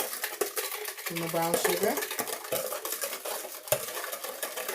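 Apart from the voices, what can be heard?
mixing banana nut bread batter in a bowl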